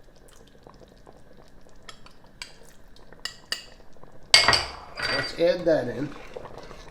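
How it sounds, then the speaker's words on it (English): A pot being scraped and stirred while a thickening sauce or gravy cooks toward the boil, with clinks of utensil on metal; a voice speaks briefly, then louder scraping and bubbling stirring sounds follow close up. "I'm also scraping the bottom of the pot."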